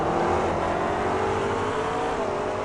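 McLaren race cars roar past on a circuit in a Grand Am round of the Australia/New Zealand series, their engines a loud, steady, continuous drone with no voices.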